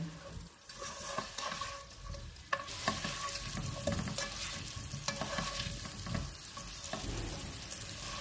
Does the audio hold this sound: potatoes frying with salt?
yes